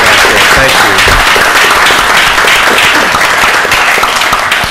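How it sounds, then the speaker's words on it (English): An audience at a Dallas ISD school board meeting applauds, with a loud, dense clapping that holds steady for several seconds and then begins to fade at the end. "If we could give these folks a round of applause."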